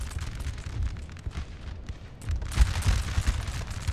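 Artillery fire in a Napoleon: Total War battle, a dense rumbling roar of distant booming shots that swells louder in the latter half, with heavier thuds punching through near the end.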